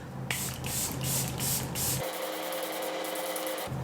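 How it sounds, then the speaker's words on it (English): Several quick bursts of fine makeup setting spray mist hiss close by onto a face, short sprays repeated in a loose rhythm. "Now let's throw on some setting spray, right?"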